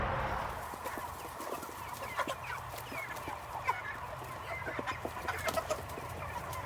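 Chickens in a chicken tractor on a hot day cluck steadily with scattered sharper calls, close and fairly quiet over a faint outdoor background, with no talking.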